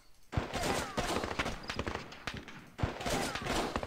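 Video game soldiers trade gunfire, with rapid bursts of shots and scattered single cracks in dense volleys that pause briefly and then resume, close and loud.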